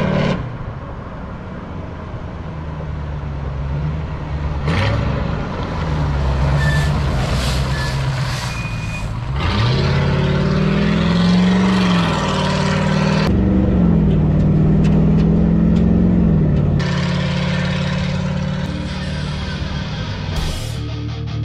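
A street sweeper truck creeps along in low gear, its engine droning steadily and close with a rising, straining tone in the middle, plus mechanical clatter and a few brief high beeps, with no talking.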